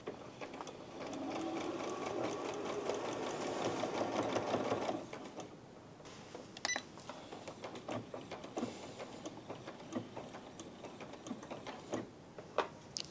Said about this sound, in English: I'm going to make sure that I follow the line but I don't cross this seam, and then I'm going to do a lock stitch